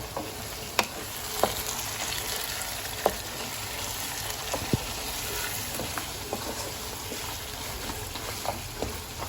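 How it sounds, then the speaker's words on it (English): Coriander leaf is stirred into sizzling mutton masala in a pan, a steady frying hiss broken by scattered clinks and scrapes of the spoon, with no talk. "I'm going to throw in some coriander leaf. And give it a good mix."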